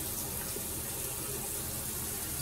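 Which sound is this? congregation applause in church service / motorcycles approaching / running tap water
running tap water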